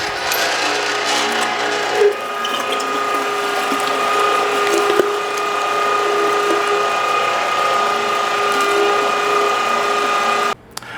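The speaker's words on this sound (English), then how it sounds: "Never start your grinder dry. Always make sure that you have a little bit of meat down inside the chute of the grinder." A meat grinder running through pork shoulder gives a steady, loud mechanical whir with ratcheting, gear-like grinding that holds for about ten seconds, then cuts off abruptly near the end.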